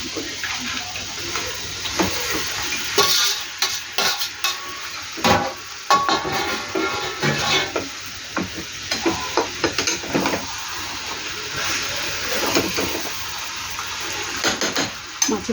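Fish heads sizzle in hot oil in a pan for a fish curry with potato and eggplant, with an ongoing spitting crackle, scraping clatters and knocks from stirring, and occasional louder bursts, all fairly close.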